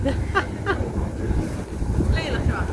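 Wind rushes across the microphone in a steady rumble near the water, with a low continuous boat engine drone underneath and a few faint voice-like sounds rising briefly above the noise.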